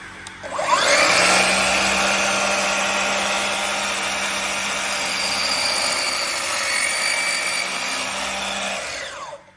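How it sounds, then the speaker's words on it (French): A Festool Symmetric cordless saw makes its first cut, a loud steady whine that starts abruptly, holds for about eight seconds with slight load changes, then winds down, with no talking. "Et alors, on va faire la première coupe ensemble."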